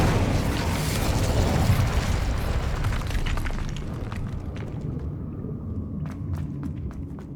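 An Incendio fire-spell blast in Hogwarts Legacy bursts with a loud roaring whoosh and rumble that gradually fades, followed by a few soft footsteps.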